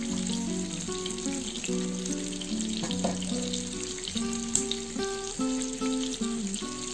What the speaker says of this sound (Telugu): ఇక్కడ ఆల్రెడీ బాగా ఫిష్ ఫ్రై అయిపోయింది